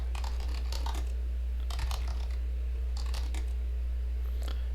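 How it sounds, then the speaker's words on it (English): A computer keyboard is typed on as someone enters a command: quick clusters of light key clicks in three bursts over a steady low hum, close and moderately loud. "I'll just type it out."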